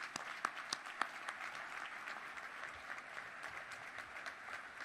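A crowd applauds the crew at the christening of the motor vessel Mark W. Barker: steady, fairly faint clapping from many hands with a few sharper claps standing out, and no talking.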